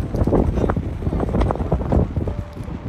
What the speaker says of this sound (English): Oh, it's windy. Windy.